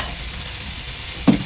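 Onions fry in a hot pan with a steady, soft sizzle, then a brief louder hiss near the end as more food or stirring hits the oil; no talking.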